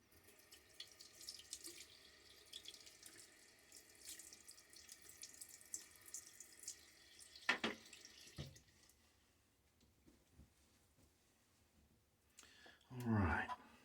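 Water runs from a faucet into a sink with splashing and dripping, steady at first, then a louder gush near the end, with faint clicks.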